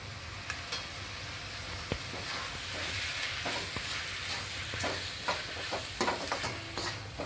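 Tomatoes sautéing in a pan with oil for a vegetable stuffing, a soft continuous sizzle with occasional scrapes and taps of a spatula stirring, close and moderately quiet.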